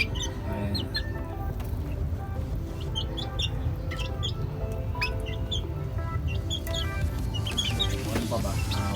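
Chickens kept on a rooftop cluck in scattered, short calls over a constant low background hum, several birds overlapping at moderate distance.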